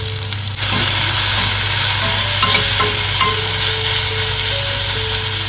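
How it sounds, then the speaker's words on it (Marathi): Onion, curry leaves, garlic and tomatoes sauté in a hot pan with a loud, dense, continuous sizzle. Faint scraping strokes of a spatula come through it and a steady low hum sits underneath, with no speech. "व्यवस्थित ना कांदा कढीपत्ता आणि लसूण परतवून घ्यायचं"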